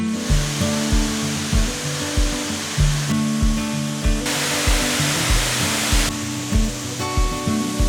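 A waterfall at Guartelá canyon in Brazil roars as a loud, continuous wash of white noise, with regular dull thuds repeating underneath.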